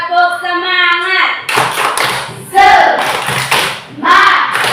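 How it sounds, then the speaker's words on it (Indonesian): Schoolchildren in a classroom do a rhythmic spirit clap, a quick patterned series of loud, close claps mixed with a voice and group chanting. "Tepuk semangat."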